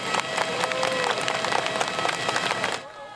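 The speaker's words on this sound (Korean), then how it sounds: "친지들의 박수가 쏟아집니다" At night on a runway, relatives and family clap and call out as evacuees step off an air force transport plane arrived from Israel. Dense clapping and crowd voices run together, then drop away abruptly near the end.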